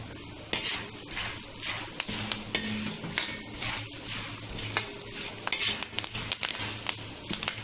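Garlic pods, dal and curry leaves fry in hot oil with a steady sizzle while a spoon scrapes and stirs the pan in irregular clinks and taps, close up and without talk.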